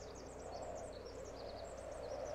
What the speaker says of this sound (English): Why is there little birdies at Blue Orby?